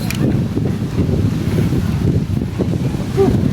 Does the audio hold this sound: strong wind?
yes